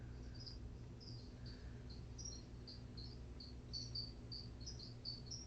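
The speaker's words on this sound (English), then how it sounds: "Jeff, are the crickets at your house" Crickets chirping at night at a house, a steady stream of faint, rapid high chirps over a low, constant background hum, with no voices.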